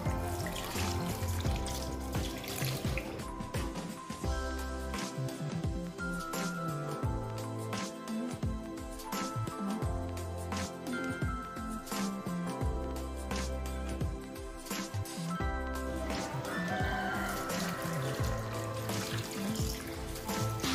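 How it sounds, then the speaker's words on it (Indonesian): Sugar palm fruit (kolang-kaling) is rinsed again and again in water, with a steady run from the tap, splashing, sloshing and the knock of fruit in a basin, close and busy throughout. "Ini kita cuci secara berulang ya, atau kita bilas secara berulang sampai airnya bersih."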